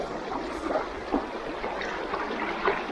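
A strong river current rushes past, a steady broad wash of flowing water with small splashy surges, moderately loud and continuous, with no voices.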